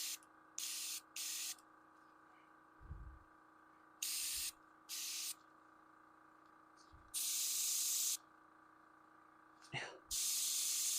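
A spray gun hisses paint onto a 3D printed Predator tank in short, bright bursts, then in longer steady blasts, with soft thuds, handling noises and a low murmuring voice in the gaps.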